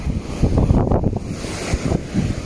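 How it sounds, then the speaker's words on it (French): Ocean waves roar loudly and close, with rough churning surf and strong wind buffeting the microphone. "Voilà les vagues qui circulent."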